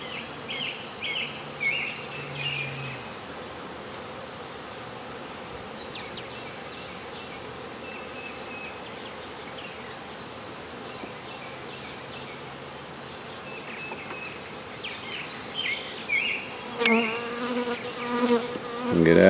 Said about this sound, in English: Get out of here, bee.